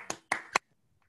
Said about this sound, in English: I'll clap again on behalf of everyone.